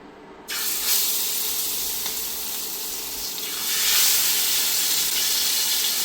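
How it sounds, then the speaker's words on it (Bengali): Aair river fish dropped into hot oil in a wok, a sudden loud hissing sizzle that bursts in after a moment of near silence and keeps spitting steadily, swelling again toward the end, close up with no voices. "তেল গরম হয়ে গেছে, এখন আমি মাছগুলি কড়াইয়ের উপর দিয়ে দেব"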